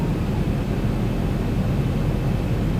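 Steady broadband roar of a Boeing 737-800 on approach with landing gear down and flaps full in X-Plane 11, a constant cockpit-heard airflow and engine rumble with no talk.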